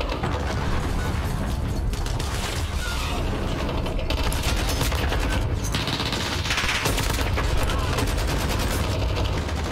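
Call of Duty Modern Warfare gunfire rattles loud and almost unbroken, with dense rapid bursts and echoing shots filling the whole stretch.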